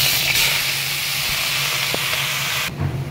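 Leafy greens dropped into hot oil tempered with dried red chilli give a loud, steady hissing sizzle that carries close and continuous before easing off at the end.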